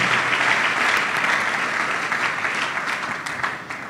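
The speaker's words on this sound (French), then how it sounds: "Acclamez très fort" Church service audience applauding and cheering: sustained, dense clapping from a large crowd, steady and loud throughout, tapering slightly toward the end.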